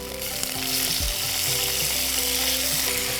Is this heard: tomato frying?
yes